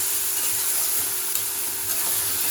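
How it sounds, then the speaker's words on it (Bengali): Spinach curry being stirred in a pan, a continuous sizzle with a few soft scraping strokes, close and steady throughout. "আমি একটু নাড়াচাড়া করে নিলাম"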